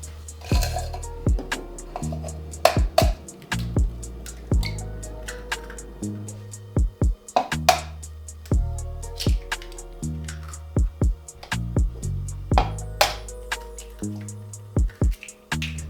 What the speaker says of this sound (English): Now y'all wanna go ahead and crack your eggs.